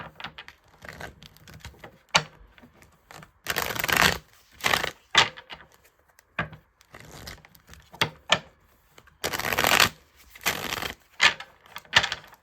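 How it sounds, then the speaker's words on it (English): Bursts of riffling and snapping as a deck of cards is shuffled several times, with soft taps and handling noises between the shuffles. "So shuffle."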